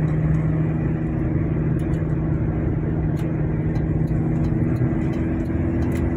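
A Toyota Kijang LGX diesel engine drones loud and steady from inside the cabin, pulling hard under full throttle through fourth and fifth gear with a constant low rumble and no talk.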